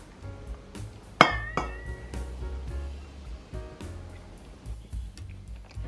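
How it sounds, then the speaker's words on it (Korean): A pestle pounds garlic and almonds, with lime juice, for a papaya-melon salad dressing. It makes irregular dull knocks and light clinks, with one sharp ringing strike standing out near the start. "마늘과 아몬드부터 꾹꾹 눌러서 빻아줍니다"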